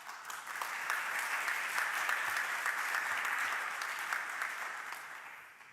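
Conference hall audience clapping after a talk, a dense sustained round of applause that holds steady for several seconds and tapers slightly at the end.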